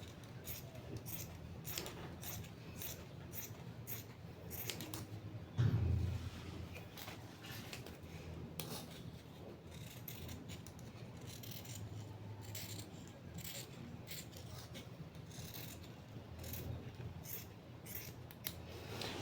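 Scissors snip through fabric for a child's sticker dress, producing many soft, close cuts in a steady, unhurried rhythm with one brief thump partway through and no voices.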